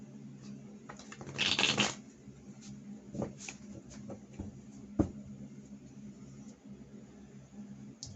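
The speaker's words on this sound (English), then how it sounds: "So now I'm going to cut the cards." Tarot cards shuffled by hand in a quiet room, a dense riffling burst near the start followed by scattered soft card taps and slides, close and moderately loud.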